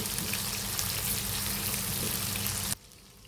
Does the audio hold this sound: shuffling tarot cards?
no